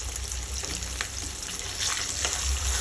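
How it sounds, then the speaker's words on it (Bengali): Pangas fish pieces fry in oil with a constant crackling sizzle, moderately loud and close, with occasional faint taps from a utensil and no speech. "পুরো মাছটা ভেজে নেব ভালো মতো।"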